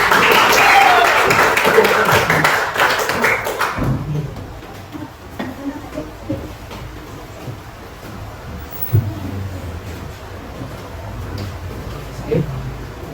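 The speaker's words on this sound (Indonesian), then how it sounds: "Beri tepuk tangan dulu teman-teman." Classmates in a school classroom applaud a presenting group, a burst of many hands clapping loudly for about four seconds before fading to room noise and scattered light taps.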